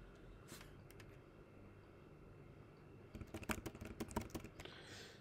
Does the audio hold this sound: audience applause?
no